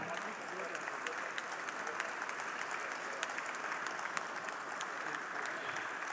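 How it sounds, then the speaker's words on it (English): Audience at a sugar industry annual convention in Goa applauding steadily, a dense, even wash of many hands clapping that holds at a constant level throughout. "Ladies and gentlemen, a round of applause for Sadhvi Niranjan Jyoti Madam and President"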